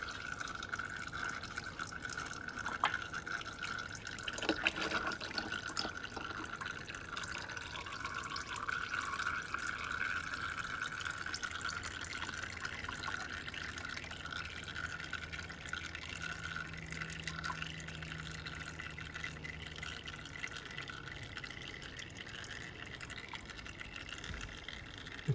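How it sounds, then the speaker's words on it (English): Engine oil draining from a 2014 Toyota 1.8 petrol car into an oil pan makes a faint, continuous trickling drip for a long stretch in a quiet space. "Okay, so we can let that drain for a little while and then we'll come back to it."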